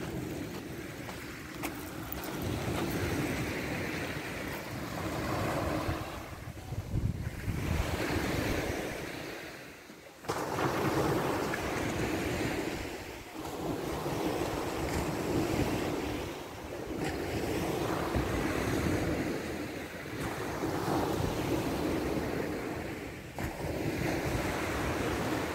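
Waves wash onto a lakeside beach at Mud Lake with wind gusting over the microphone, a steady broad roar that swells and eases every few seconds, with no voices.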